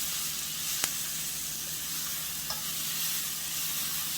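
Zucchini noodles sizzle steadily in a hot pan while being stirred, a close, even frying hiss broken by a couple of sharp utensil clicks, with no talking.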